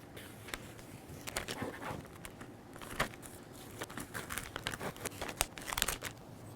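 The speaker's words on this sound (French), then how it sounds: "Et maintenant, on veut enlever le ruban de transfert." Transfer tape being peeled off decorative stripes on a 2020 Can-Am Spyder RT LTD, a quiet run of crinkling and tearing sounds with sharp little crackles, close and alone.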